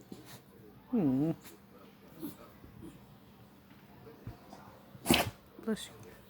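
A dog gives a single loud, sharp sneeze up close, preceded by a person speaking and a few small snuffles and movements in a quiet room.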